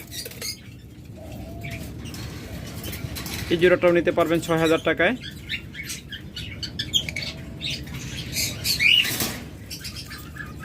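Pet birds, opaline and parblue split mutation pairs, chirp and coo, and a short flurry of wing flapping cuts in partway through. Someone talks over them throughout.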